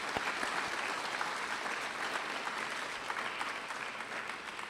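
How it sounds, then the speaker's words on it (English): Audience at a high school agricultural program spring banquet applauding, a dense, steady burst of clapping from a room full of people that carries on for several seconds and tapers slightly at the end. "Let's give all of these amazing supporters a round of applause."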